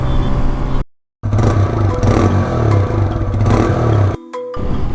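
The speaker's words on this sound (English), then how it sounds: "the bike pulls greatly for a 125cc bike" A 2025 TVS Raider 125 motorcycle with a 125cc engine accelerates with a loud, close engine drone and wind noise. The sound cuts out twice briefly.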